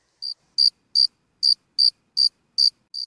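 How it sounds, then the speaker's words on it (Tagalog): A cricket chirps in eight short, sharp, evenly spaced pulses, close and alone against silence. "Tama, ito ay tunog ng kuliglig."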